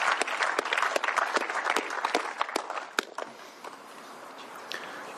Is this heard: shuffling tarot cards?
no